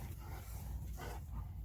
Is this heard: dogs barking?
yes